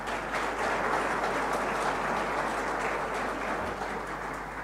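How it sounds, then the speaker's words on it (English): Applause for graduates at an online graduation ceremony in South Africa, a steady dense wash of many hands clapping that holds for several seconds before easing slightly at the end, with no voices over it. "give yourself a round of applause."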